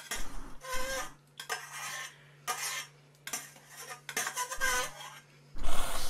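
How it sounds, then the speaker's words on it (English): A utensil scraping across the surface of a non-stick pan in a home kitchen, repeated rasping strokes in uneven bursts with short pauses between, close and fairly loud over a steady low hum. "Scraping pan."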